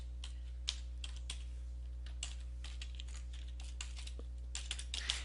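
Fingers tap out an email address on a computer keyboard in a quiet room, a steady run of light, close keystrokes with a constant low electrical hum underneath.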